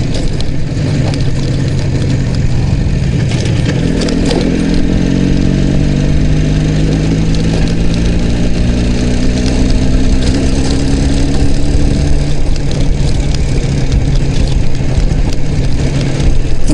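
An Izh Jupiter 5 motorcycle engine runs steadily up close, its loud idle rising briefly as the revs climb and then settling back, with no talk over it.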